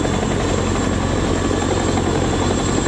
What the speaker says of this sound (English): it was a Chinook